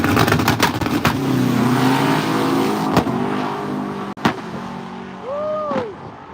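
Stick-shift drag race cars at an outdoor drag racing event, loud engines roaring and revving with rising and falling pitch, sharp bangs and a brief whine near the end.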